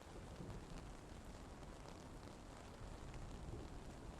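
Steady heavy rain in the World War II shooter Post Scriptum, a dense unbroken hiss with low rumbling undertones running evenly throughout, no voices.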